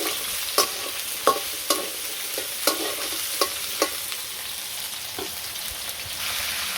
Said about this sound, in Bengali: তাই সবজিগুলো দিয়ে দিলাম, লবণ দিয়ে কষি তরকারির ঝোল দিয়ে দিছি।